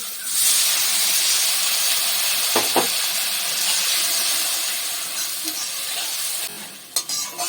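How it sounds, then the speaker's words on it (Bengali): Loud, steady hissing and sizzling as a little water hits hot oil in a pan of bata fish curry, continuing for several seconds with a few faint clinks near the end. "এই পর্যায়ে আমি জল দিয়ে দেবো অল্প করে।"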